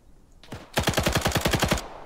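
Machine-gun covering fire in a video game: a close, loud burst of about a dozen rapid shots in even rhythm, opened by a single sharp report after a quiet moment.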